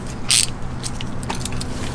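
Lug nuts on the rear wheel of a Honda S2000 being loosened, a brief sharp ratcheting burst followed by scattered clicks over steady garage noise.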